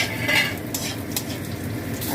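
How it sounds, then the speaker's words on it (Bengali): Peeled, seeded pointed gourd (potol) being lightly fried in a pan, a steady close sizzle of oil with occasional scrapes and clinks of a spatula stirring against the metal, no talking. "এটা আমি হালকা করে ভেজে নেবো।"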